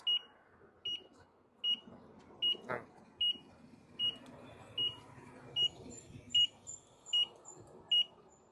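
A scooter's turn signal beeps: short electronic beeps repeat at a steady rhythm, roughly one every 0.8 seconds, over a low background rumble. A brief click sounds partway through.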